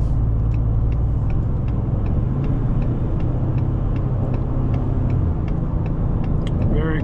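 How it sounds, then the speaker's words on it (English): A 2020 Ford Expedition Limited Maxx with a twin-turbo V6 accelerating on the highway, its steady, full engine and road rumble droning close and continuous throughout with a faint ticking on top. "Very competent acceleration, smooth operation of the V6, twin turbo V6."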